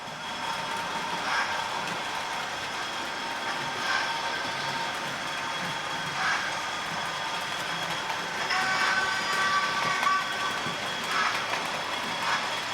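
A model locomotive fitted with a retrofitted LokSound decoder runs on a track siding, giving a faint, steady mechanical hum with soft periodic clicks over a low background.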